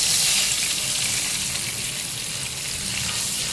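A bowl of water poured into a hot pan while making khamani from khaman sends up a steady, broad sizzle and hiss that holds evenly and slowly eases off.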